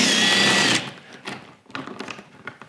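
A power driver fitted with a T25 Torx bit whirs loudly for under a second while backing screws out of a Ski-Doo G4 snowmobile hood, followed by softer clicks and handling noises.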